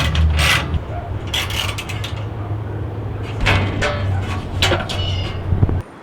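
Bolts being tightened while a permanent greenhouse frame and its bottom support are assembled, with close metallic ratcheting and clicking in repeated bursts over a steady mechanical hum.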